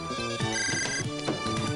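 A telephone rings in a busy room, its dense, steady ringtone running the whole time under layered background noise and music-like tones, fairly loud and close.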